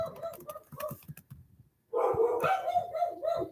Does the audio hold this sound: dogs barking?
yes